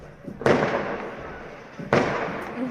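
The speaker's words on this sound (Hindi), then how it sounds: "फिर रात को बजे हुए हैं बिल्कुल पटाखे," Firecrackers burst at night in a village, two loud, sharp bangs about a second and a half apart, each leaving a rumbling tail of noise.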